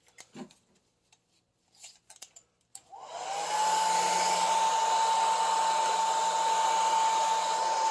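A few small clicks and taps are heard, then a heat gun switches on and blows hot air with a loud, steady whooshing whine, used while applying wood grain accents to a Triumph Spitfire dash and door.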